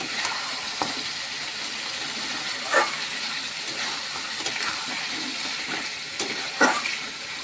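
A meat curry sautés in a pan with a steady, close sizzle and frying hiss, while a utensil stirs it now and then, adding a few sharper scrapes against the pan.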